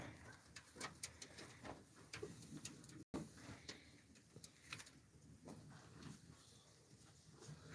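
Tumbler pigeons, including a breeding hen, on a rooftop terrace give soft, intermittent low coos with occasional wing flutters and bumps, fairly close and moderately quiet.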